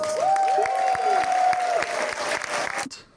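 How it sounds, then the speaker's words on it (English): Audience applause and cheering fill a hall at the closing of Furnavia 2025, a furry convention in Norway, with dense sustained clapping and a few whistles, then a sudden cutoff near the end. "Give yourself a big applause."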